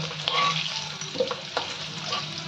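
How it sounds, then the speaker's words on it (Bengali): Potato pieces fry in hot oil in a pan, a continuous soft sizzle with a few clinks and stirring scrapes, close and moderately quiet, with no voices. "ভাজা ভাজা মতো হয়েছে, এবার আমি তাহলে আলুগুলো তুলে নিব।"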